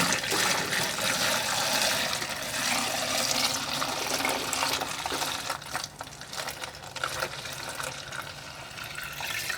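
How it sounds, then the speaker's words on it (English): Pickling brine poured from a container through a paper plate bent into a funnel, filling a jar for pickled eggs; a steady, close liquid pour runs throughout, splashing and trickling with no talk. "I'll probably lose some of this brine when I pour, but the majority of it should get in there."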